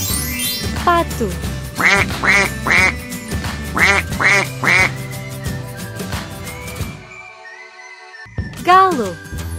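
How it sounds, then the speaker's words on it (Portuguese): Toy jungle animal duck quacking in a repeated burst of several loud, nasal quacks over background music, followed by a brief pause and one more quack near the end. "Pato."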